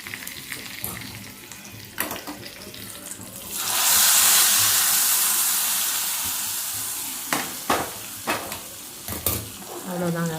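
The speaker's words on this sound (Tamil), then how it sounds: "கடுகு, வரமிளகாய் போடணும். அப்புறம் கருவேப்பிலை, நெக்ஸ்ட்டு பெருங்காயம்." Mustard seeds, dried red chilies, curry leaves and asafoetida tempering in hot oil for buttermilk curry, with a sudden loud sizzling burst that slowly fades, set among scattered clinks and stirring knocks.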